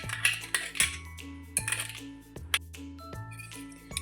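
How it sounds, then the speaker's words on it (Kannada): Metal spoon clinking against a bowl while sugar is stirred into curd, a run of bright, irregular taps and scrapes up close with no talking. "ನಾನೀಗ ಮೊಸರಿಗೆ ಸಕ್ಕರೆಯನ್ನು ಹಾಕಿ ಚೆನ್ನಾಗಿ ಮಿಕ್ಸ್ ಮಾಡ್ತಾ ಇದ್ದೀನಿ."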